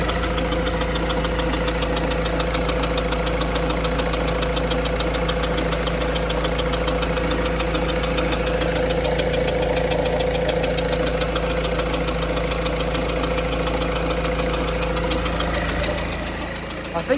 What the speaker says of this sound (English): you can hear that little injector chucking away